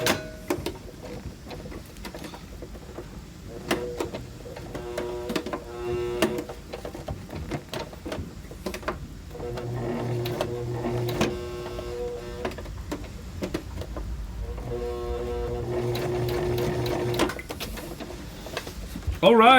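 A sewing machine straining as it stitches through about ten layers of fabric for a kilt, giving intermittent laboured motor hums and thumping needle strokes in short stop-start runs.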